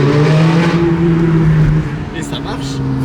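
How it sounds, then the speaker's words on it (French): A Ferrari 430 Challenge Stradale's V8 engine and exhaust pulling hard, a loud steady droning tone that dips slightly as it shifts, heard from inside the car with a voice speaking over it. "mettre cet échappement-là sur une Modena et ça fait le bruit d'une Challenge"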